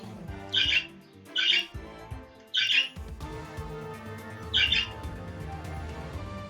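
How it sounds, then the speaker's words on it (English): Birds squawking in the morning, four loud bursts of harsh calls spaced a second or so apart over a steady musical background. "Birds are having a hell of a morning there."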